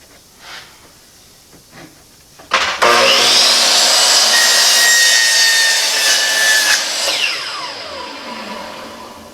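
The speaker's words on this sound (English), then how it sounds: "So the first thing I need to do is miter up one end." A saw cuts a miter through a wooden piece for a hall coat tree: a few light knocks, then a loud, close, continuous cut lasting about four seconds that winds down and fades away.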